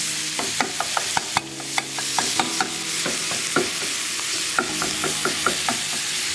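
Beef mince sizzles in a hot pan for hard shell tacos while a utensil scrapes and taps through it in an uneven rhythm, close and moderately loud with a steady frying hiss beneath.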